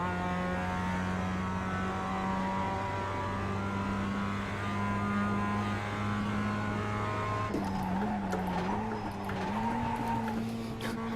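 Mazda Miata engine in the iRacing sim at Sonoma Raceway, droning steadily at high revs with a sustained whine, then shifting pitch as the car slows and reaccelerates, with faint tyre squeal.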